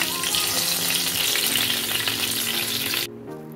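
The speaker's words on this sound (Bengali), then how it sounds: "টমেটো কাজু বাদাম, প্রায় ভাজা ভাজা হয়ে গেছে।" Tomatoes and cashew nuts fry in a pan, a loud, close, continuous sizzle that drops away abruptly near the end, leaving a quieter background.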